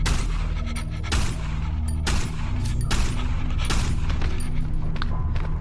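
Gunfire from the horror video game Cry of Fear, loud and dense, with sharp shots bursting at intervals over a steady rumbling backdrop and no talk.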